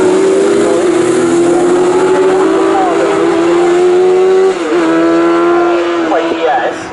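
Sports 1000 race cars at Snetterton circuit roar past loudly and continuously, engine tones rising and falling through gear changes with a brief dip near the end, under a commentator's voice.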